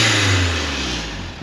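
A Toyota MR2 engine running close by, a loud steady drone that swells into a brief rev and then settles back down toward idle.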